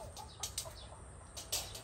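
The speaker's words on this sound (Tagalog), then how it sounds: "Manok po sa kabila." Chickens cluck in short bursts with a brief flutter, set against a low steady rumble from a nearby motorbike outing, fairly quiet overall.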